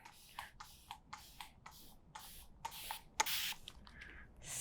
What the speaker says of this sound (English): now I'm just going to continue to spray my hair until it's a little more wet